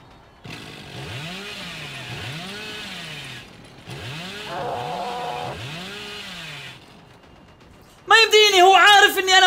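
A revving chainsaw in the horror game Dead by Daylight, heard as repeated swelling whine bursts with a pause between them, ending in a louder harsh burst, while a player talks over it.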